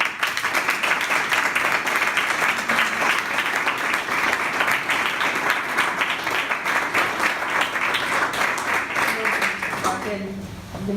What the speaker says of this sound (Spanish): Un aplauso para Raquel.